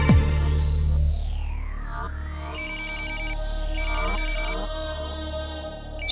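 An electronic phone ringtone plays a bright warbling melody with chirping pulses, steady and clear, with no voices.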